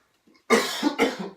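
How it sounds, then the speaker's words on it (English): Two harsh, close coughs from a weeks-long lingering cough in quick succession, the second slightly weaker, after a faint breath. "I'm still dealing with this cough for about 4 weeks now."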